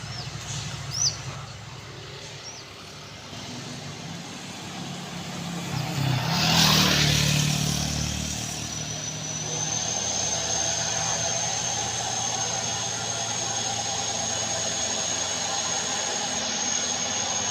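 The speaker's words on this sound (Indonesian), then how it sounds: "Langsung mengaum suara mesin dari Fuso Oren ini." The heavy engine of a Fuso truck carrying a 10-ton load roars up loudly, peaks, then settles into a sustained droning rumble with a high whine over it, no talking.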